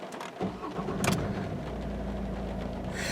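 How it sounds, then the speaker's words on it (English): 2008 Vauxhall Astra 1.7 CDTI diesel cranks briefly and fires, then settles into a steady, close idle. "Let's start her up."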